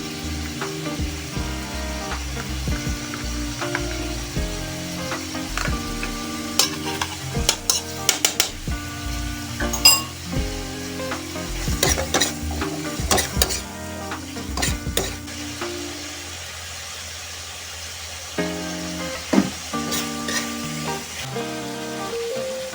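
Chicken, bagoong and string beans stir-fried in a pan for a balon-balonan dish, with steady sizzling and repeated scraping of a utensil against the pan, close and continuous with no talking.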